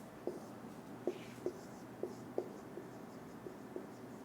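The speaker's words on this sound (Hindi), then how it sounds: "नंबर 4 पॉइंट ये मिटा के लिख रहा हूँ" Chalk or marker taps and short strokes on a classroom board, about eight light knocks in an uneven rhythm, faint and close against a quiet room hum.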